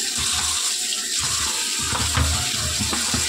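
Potatoes are rinsed under a running kitchen tap, a steady loud stream of water splashing and gurgling with light handling sounds, with no talking.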